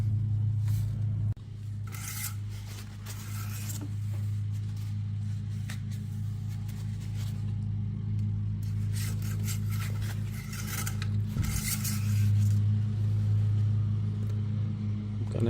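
Metal scraping and rubbing in scattered bursts as a skid plate goes back on under a Toyota Tundra 5.7, over a steady low hum, with no talking.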